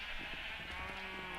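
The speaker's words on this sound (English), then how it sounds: "Those sheep are going to be really annoying." Sheep bleating in the Minecraft video game, a steady game-audio texture with faint, short bleats layered under constant background ambience.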